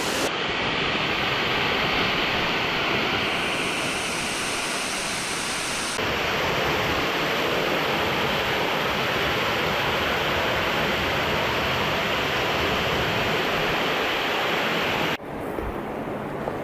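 Little Mashel Falls pours in a loud, steady broadband roar of rushing water, continuous and close for the whole stretch with only slight shifts in tone and no voices.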